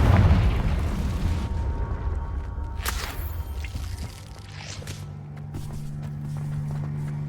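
A Confringo spell explodes in the Hogwarts Legacy video game: a loud, rumbling boom opens and fades into low rumble. A sharp burst follows near the three-second mark, then a steady low hum and scattered small clatters.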